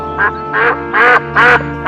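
A duck quacks four times in quick succession, loud and close, with each quack slightly longer than the last.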